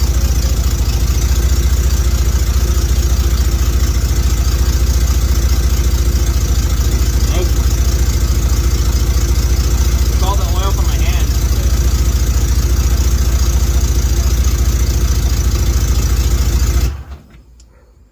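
A 1992 Ford Ranger's freshly installed 3.0L engine runs at a steady idle, loud and close, with the muffler not fully tightened, before cutting off near the end while people talk over it.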